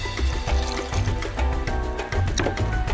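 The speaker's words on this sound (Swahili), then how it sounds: "Tutaweka na maji kidogo" A little water poured into a cooking pot holding tomato, tomato paste and chili for sausage spaghetti, a steady close splashing pour lasting a few seconds.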